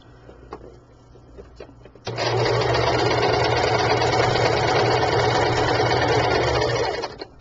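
A sewing machine stitches the seam of a small handmade sachet bag, starting after a quiet stretch and running as a steady, loud, close whir for about five seconds before stopping.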